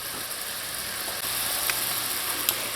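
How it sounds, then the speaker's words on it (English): Curry sauce of green seasoning, pimento sauce and spices simmering and thickening in a pot, giving a steady, even sizzle with a couple of faint pops. "We're going to cook this until it turns into a thick paste."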